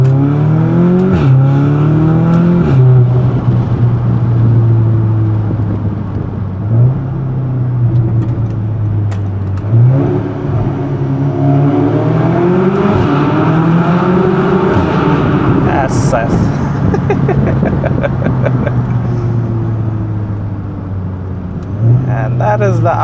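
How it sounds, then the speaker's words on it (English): A 2017 Audi S3 8V2 engine revs and accelerates up through the gears, a loud, steady rumble with rising and falling pitch sweeps and brief shift dips, heard from close by under faint background voices. "And that is the Audi S3"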